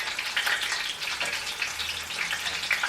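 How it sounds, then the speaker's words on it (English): Tofu fingers fry in a hot pan in a home kitchen, giving a constant bright sizzle and crackle of oil that stays close and fairly loud for the whole stretch, with no talking. "This is why I don't like frying."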